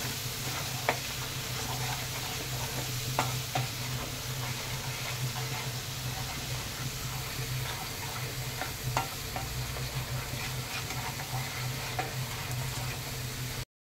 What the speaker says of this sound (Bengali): আর দিয়ে দেবো 1 চামচ জিরে আর লঙ্কা বাটা। দিয়ে ভালো করে কষিয়ে নেব